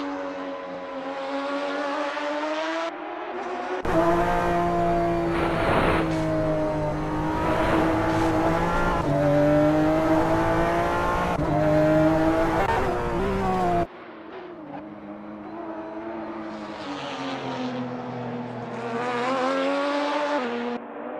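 A 2018 Porsche 911 RSR race car in Assetto Corsa laps a wet Spa circuit, its engine howling through loud, sustained revs that rise and fall with gear changes, with a brief dip before a second driving stretch.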